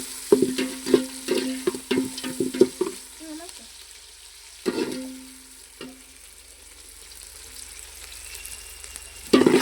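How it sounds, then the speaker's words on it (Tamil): Chopped onions frying in a pan on a home stove, with repeated scraping stir strokes over a soft sizzle, then quieter frying with occasional clinks, close by. "நம்ம வெட்டி வச்சுருந்த வெங்காயத்தை போட்டாச்சு. இப்போ வெங்காயம் நல்லா செவக்கட்டும்."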